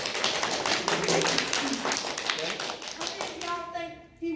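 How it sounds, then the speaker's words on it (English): Children at an elementary school event clap for the participants in a brisk burst of applause, with voices talking over the clapping. "Clap it up for everybody that participated."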